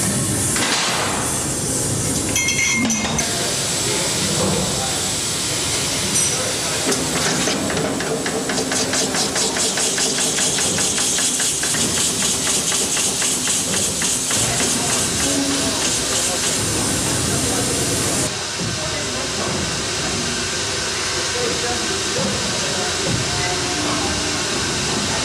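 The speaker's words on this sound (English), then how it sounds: "Her triple expansion engine was built by General Machinery Corporation in Hamilton, Ohio" Triple expansion steam engine of the Liberty ship S.S. Jeremiah O'Brien, built by General Machinery Corporation of Hamilton, Ohio, runs with a steady loud hiss of steam and mechanical clatter throughout, in a dense unbroken roar with a voice faintly mixed in.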